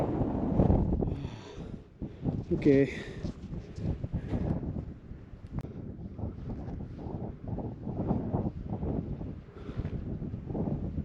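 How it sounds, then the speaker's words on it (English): Strong gusting wind on a ridge of the active volcano Chausudake, Tochigi, Japan, buffets the microphone throughout, a constant roaring rumble, with a brief word spoken partway through. "I'm right on the ridge, so it's really windy here"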